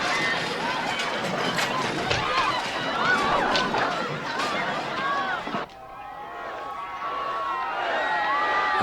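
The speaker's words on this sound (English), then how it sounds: "Rodney Dangerfield clears the crowd, thins out the crowd for registration day." A large crowd rushes away in a movie scene, with dense hubbub, shouting and pounding footsteps filling the space, then thinning briefly before the babble picks back up.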